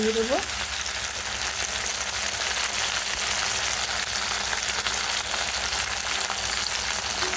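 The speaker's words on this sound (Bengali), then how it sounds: "পেঁয়াজটা আমার ভাজা হয়ে গেছে" Onions fry in a pan for an egg omelette curry, producing a steady, close crackling sizzle that holds evenly throughout with no talking.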